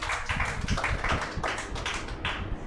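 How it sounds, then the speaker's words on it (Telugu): A church congregation claps loudly and steadily in a dense, rhythmic burst of hands, close and full, with no talk over it. "గట్టిగా చప్పట్లు కొట్టి ప్రభు నామాన్ని మహిమపడదాం"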